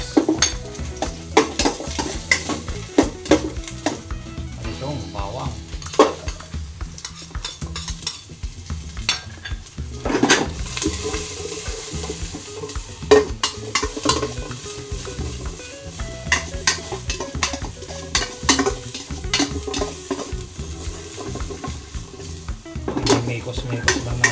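Chopped ginger and onion frying in a pan for goat kaldereta with coconut milk, a constant sizzle under repeated stirring and scraping, with clinks of a metal utensil against the pan throughout.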